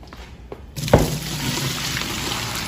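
Boiling water and vinegar poured from a pot into a kitchen sink, a steady broadband gush that starts abruptly after a quiet moment and runs on evenly at moderate loudness.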